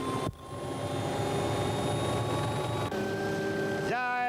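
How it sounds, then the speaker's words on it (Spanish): A Raca MD news helicopter with engines running as it takes off from hangars in San Fernando, a loud continuous turbine whine with steady tonal hum, pitch rising near the end. "En el helicóptero Raca MD de Nueve Diario despegamos de los hangares de San Fernando hacia el sur del Gran Buenos Aires"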